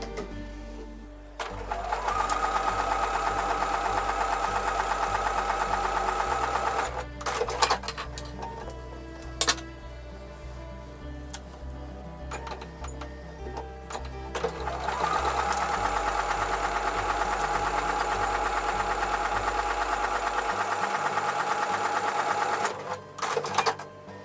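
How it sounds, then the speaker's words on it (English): Sewing machine stitching a quarter-inch seam on a quilt block, a steady close mechanical whirring run that stops for a few seconds in the middle, then starts up again before cutting out near the end. "I'm going to sew with a 1/4 inch seam."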